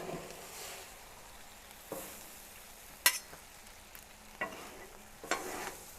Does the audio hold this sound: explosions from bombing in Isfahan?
no